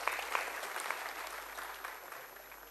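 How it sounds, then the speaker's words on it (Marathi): An audience applauds after a speech at the MUHS 26th Foundation Day ceremony in Nashik, a sustained, even patter of many hands heard from a distance, fairly faint and without talk over it. "आपण जोरदार टाळ्या वाजवून सरांचं अभिनंदन करूया"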